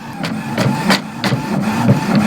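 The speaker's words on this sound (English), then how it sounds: "I'm going to save that as a PDF, and I am printing it off now." Office printer printing sheet music, a rhythmic series of mechanical clacks and whirring passes repeating about every third of a second, close and fairly loud.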